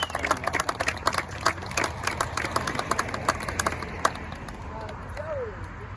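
Outdoor applause at a historical roadside marker dedication in Wappingers Falls, New York: a small crowd claps steadily for several seconds, then the clapping tapers off as a voice starts speaking.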